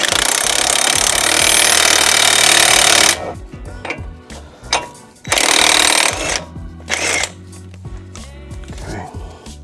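A power tool drives a lug nut to seat new wheel studs on a 7th-generation Hyundai Sonata: a loud, sustained rattling burst of about three seconds, then shorter impact bursts mixed with metallic clanks and handling noise.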